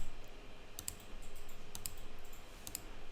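A computer mouse clicking in a quiet room: three short, crisp clicks spaced about a second apart, faint and close, with no talk.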